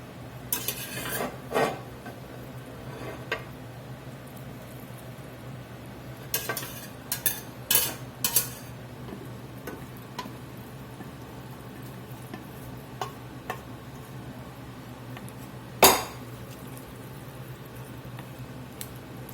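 Green beans are tossed with potatoes in a pot of starch-thickened liquid for Southern-style green beans. A utensil scrapes and clinks against the pot in sporadic bursts over a low steady hum.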